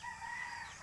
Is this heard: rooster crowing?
yes